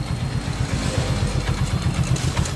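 A Hero Super Splendor motorcycle engine idles steadily on the fuel left in its carburetor, a close, even, rapid putter with slight clatter and no voices.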